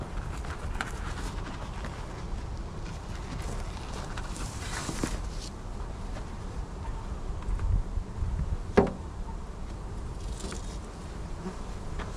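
Honey bees buzz steadily around the hives in a nuc yard, a soft, continuous hum with one brief knock partway through and no talking.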